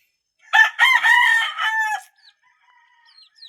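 A rooster crows loudly and close by, a stretched harmonic call lasting over a second, followed by faint scattered bird chirps in a quiet background.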